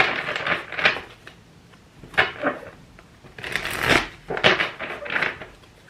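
Tarot cards riffled and shuffled in several bursts of crisp, papery flutter, close by, with short pauses between shuffles and no talking.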